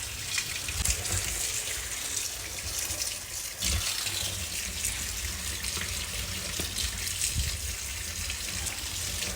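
Ridge gourd peels are washed under a running kitchen tap, water gushing steadily into the sink with occasional splashes and sloshes as the peels are squeezed, close and continuous without talk.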